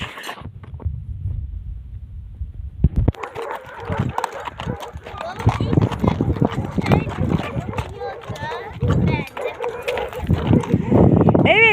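Several street dogs bark over one another in a noisy, chaotic chorus after a brief quiet start, with a voice talking and imitating the barks.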